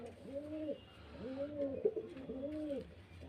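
Pigeons coo in soft, rolling calls repeated three times at a steady rhythm, close and clear over faint background noise, at a pigeon seller's in Beldanga, Murshidabad.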